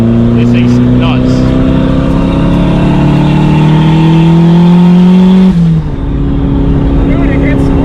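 A turbocharged Mazda Miata revs hard while doing donuts, its engine climbing steadily in pitch, then dropping sharply near the end, loud and close, with voices heard around it.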